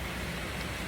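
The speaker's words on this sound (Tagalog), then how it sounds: "wala pa rin tigil yung ulan" Steady rain falls in a dense, even hiss of broadband noise, continuous and fairly close, with no voices or other sounds over it.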